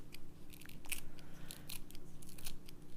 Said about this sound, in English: So scissors works better for this today.